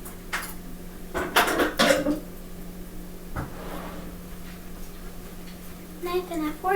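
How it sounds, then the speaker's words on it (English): Metal cutlery clinks and rattles a few times as a knife and fork are fetched for European-style pancakes, with soft household voices and faint kitchen noise around them. "Knife and a fork coming up."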